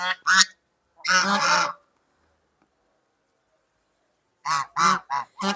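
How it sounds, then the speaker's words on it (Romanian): Geese honk in several loud bursts, a pair at first, a longer noisy cluster, then a quick run of calls after a pause, close by. "Acolo avem gâștele care mănâncă."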